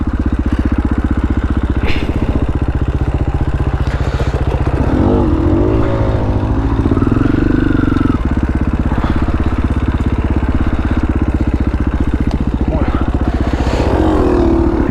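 KTM 500 EXCF dirt bike engine chugging along a wooded singletrack trail, a loud, constant low grunt with throttle changes, while a rider talks briefly over it.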